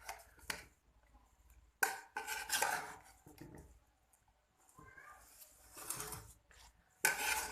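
A spoon scrapes and clanks against a large pot while chicken biryani is mixed, giving irregular metallic knocks and rubbing strokes, some sharp hits near the start and end, with no talk.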